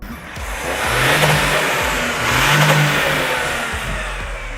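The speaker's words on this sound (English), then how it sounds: "its hydrogen-powered cousin makes a noise that is as good and, in our opinion, even better than the petrol-powered version" A Toyota hydrogen-fuelled combustion engine revs up and down in two swells, a loud throaty roar rising and falling close by, with no talking.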